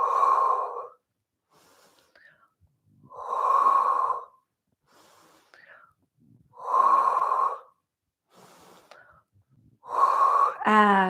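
Slow, rhythmic breathing during a standing Pilates workout, with four loud, drawn-out breaths of about a second each separated by quieter pauses, then a brief talking voice at the end.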